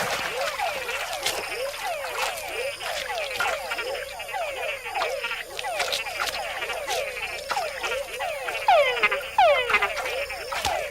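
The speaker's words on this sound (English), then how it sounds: "With other, bigger frogs nearby, a call can be a fatal attraction." Frogs make mating calls in a Panama rainforest, a dense, busy chorus of many overlapping chirping croaks and rising whistles, loud and constant, with no break.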